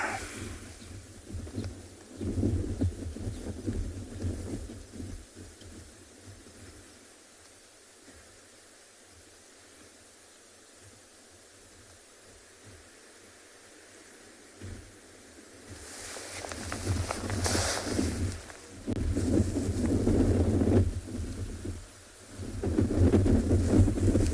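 Wind buffeting a microphone on a morning safari at a waterhole in Tswalu, heavy rumbling gusts that ease off through the middle and then return strongly, no talking.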